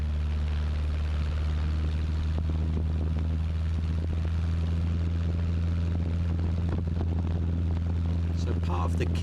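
A light propeller airplane descends for a touch-and-go, its engine drone a steady loud hum heard from inside the cabin, with a voice talking over it.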